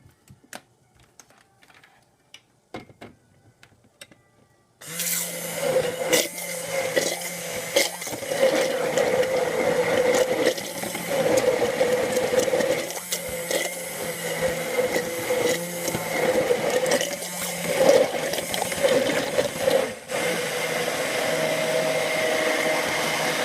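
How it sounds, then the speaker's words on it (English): An immersion blender starts after a few quiet seconds of light handling noise, then runs steadily for the rest of the clip with a continuous buzzing whir that wavers slightly in loudness. "I'll just get the immersion blender going."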